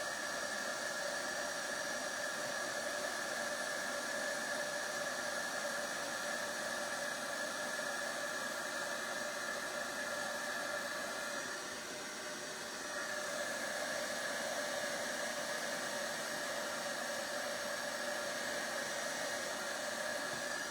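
A heat tool blows hot air steadily around an edge, a continuous close hiss and whoosh with a brief dip in airflow partway through, no talking.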